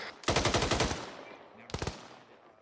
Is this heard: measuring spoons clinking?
no